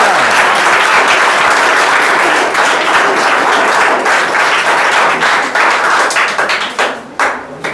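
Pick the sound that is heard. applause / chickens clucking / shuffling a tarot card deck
applause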